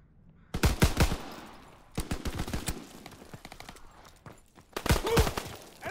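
Rapid gunfire from a World War II setting in Call of Duty: WWII hardcore team deathmatch, with loud bursts of automatic fire in several clusters separated by short gaps.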